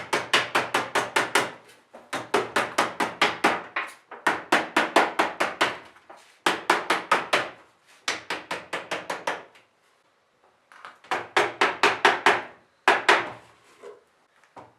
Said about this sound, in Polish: Będę używać takiego gumowego młotka, żeby to ładnie doklepać.